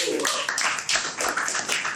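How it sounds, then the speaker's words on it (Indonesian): A small group applauds an Indonesian athletes' talk-show guest, a short burst of close hand claps with a few uneven taps running for about two seconds. "Mantap, tepuk tangan baru."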